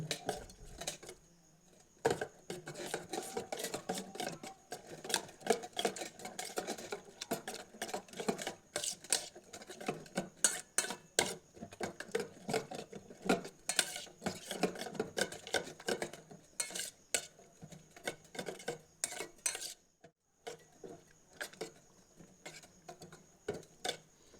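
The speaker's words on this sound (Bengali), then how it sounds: "এরপর এই ডিমটি ভালো করে মিশিয়ে নিচ্ছি।" Egg and chopped onion are beaten briskly in a bowl, a fast, uneven run of close utensil clicks and taps against the sides that goes on almost continuously, with a brief pause near the end.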